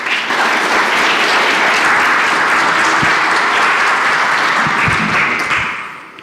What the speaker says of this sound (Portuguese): Vamos então aplaudir e receber o Sérgio.